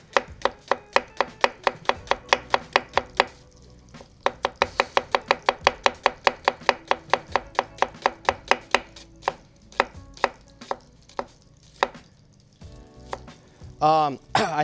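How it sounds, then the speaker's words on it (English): A knife chops steadily through onions on a cutting board, cutting them into thin slices with fast, even, rhythmic strokes. A brief pause falls partway through, then the chopping resumes and slows toward the end. "So I will slice my onions here. I'm just gonna go really thin slices."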